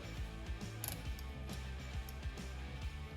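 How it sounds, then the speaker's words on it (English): A cone wrench snugging up a bicycle wheel hub during a rebuild, giving close, small metallic ticks and clicks in an uneven rhythm with a soft mechanical whir. "We just come in here with our cone wrench and we'll just kind of snug that up."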